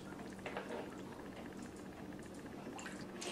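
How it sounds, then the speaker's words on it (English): Ginger broth is poured over a dish of steamed clams in a Vietnamese kitchen, making a soft, continuous liquid splashing and trickling that stays faint and steady throughout, with no one speaking. "I'm going to dip in some broth and pour that over this"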